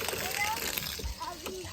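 Outdoor beach shower at Sazlıca beach in Foça, İzmir: water splashes and splatters in a short close burst while voices talk nearby.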